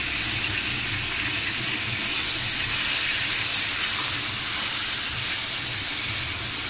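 Steam hisses steadily from a pot of steaming crabs, a continuous bright broadband rush that stays loud and even throughout with no talking.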